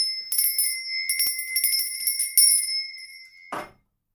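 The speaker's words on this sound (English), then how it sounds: "I'm going to ring this bell, okay?" A high bell is struck several times in quick, uneven strokes, each ringing with a bright sustained tone that fades, and a final soft thud before silence.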